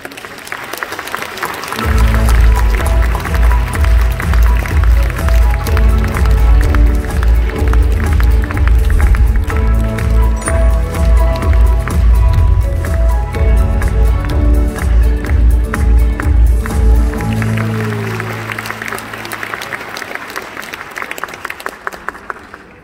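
A large audience at a Korean Christian business convention in Busan's BEXCO hall breaks into loud, sustained applause to welcome a speaker, a dense roar of clapping lasting about fifteen seconds before fading into scattered claps.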